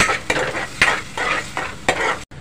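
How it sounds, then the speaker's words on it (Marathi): A spoon is dragged through tomatoes and ground masala paste in a pan over a low flame, making rhythmic scraping strokes about every half second over a wet sizzle, close up and without talk. "आता गॅसची फ्लेम स्लो करत आहे आणि टोमॅटो आणि वाटप छानपैकी एकजीव करत आहे"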